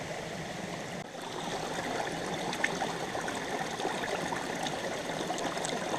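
Water running steadily through a gold prospecting sluice at Todmorden, UK, a continuous rushing, burbling flow with no talk.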